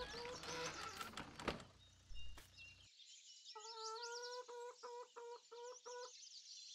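Chickens clucking in the farming game Landwirtschafts-Simulator 19, a series of short repeated clucks in a quick rhythm after a noisy opening stretch, fairly clear and close.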